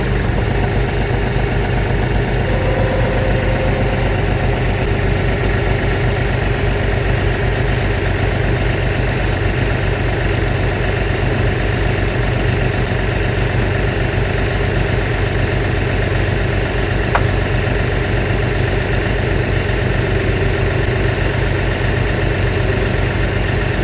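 Tractor engine idling with a steady, even rumble and vibration throughout, close and unchanging for the whole stretch, with no voices.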